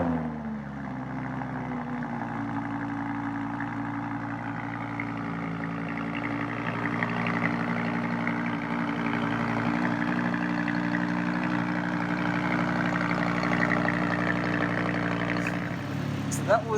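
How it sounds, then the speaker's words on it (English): A Lamborghini Huracan V10 idles just after start-up, a steady, smooth low-pitched engine hum holding constant for most of the stretch before a brief blip and cutoff at the end. "That was the sound of a Lamborghini V10."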